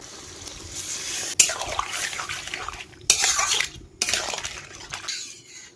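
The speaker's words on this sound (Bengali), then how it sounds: "এবার জল দিয়ে দেবো" Water splashes and pours into a metal pot of crab, Malabar spinach and potatoes in a few separate bursts, with clanks of the pot between them.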